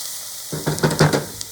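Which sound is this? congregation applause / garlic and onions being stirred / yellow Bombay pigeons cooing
garlic and onions being stirred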